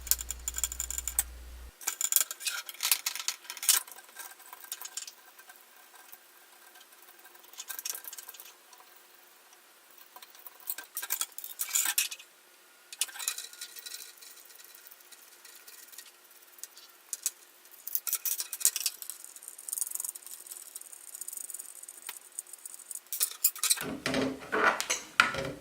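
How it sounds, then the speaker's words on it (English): Sped-up metallic ticking and clinking as nuts are spun off very long threaded rods during a retro Windows 95 PC rebuild, a busy, continuous rattle that runs with only brief pauses. "taking these nuts off these very long threads"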